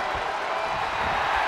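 A wrestling arena crowd in WWE 2K22 during a SmackDown tag match roars in a steady, dense wash of cheering and murmur, held at an even level throughout with no single voices standing out.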